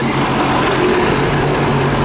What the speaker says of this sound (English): I wasn't expecting to film a tractor today.